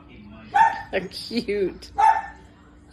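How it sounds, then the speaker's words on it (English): Several pet dogs bark and yip in short bursts indoors, close and fairly loud, while a person talks softly over them. "my dogs were barking while I was filming that"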